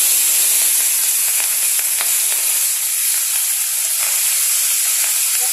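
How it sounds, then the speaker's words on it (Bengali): Small fish frying in very hot oil, a loud, steady sizzle and hiss that runs unbroken throughout with faint crackles and no talking. "তো এটার জন্য আমি এখন তেল গরম হলে আমি মাছগুলো ছাড়বো।"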